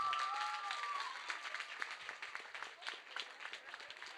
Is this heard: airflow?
no